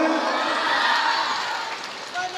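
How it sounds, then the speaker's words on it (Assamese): Audience at a live show in Tezpur, a dense crowd roar of cheering, clapping and shouts, loud and sustained before easing slightly near the end. "চাপৰিটো বজাই দিলেই হ'ল আৰু"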